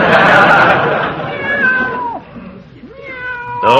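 A housecat meows repeatedly as a radio comedy sound effect, loud and close: drawn-out, wavering cries rising and falling, with a final sharp meow at the end.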